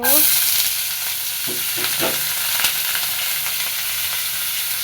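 Potatoes, onion and green chili frying in a wok, a steady close sizzle with a few stirring scrapes and clatters, no talk.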